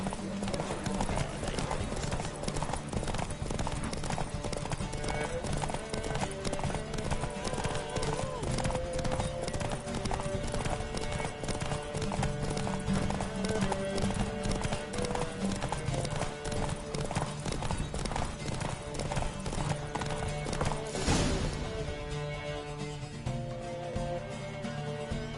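In The Witcher 3, a horse gallops through a race with a rapid, continuous clip-clop of hooves over game music, ending in a sudden burst and then a brief quieter stretch.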